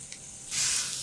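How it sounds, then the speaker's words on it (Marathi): A brief, close frying hiss as a ginger, garlic and green chili paste with turmeric sizzles in a hot pan, swelling suddenly halfway through and holding steady, with no voices. "आता कमीत कमी दोन मिनिटं तरी हा ठेचा छान भाजून घ्यायचा"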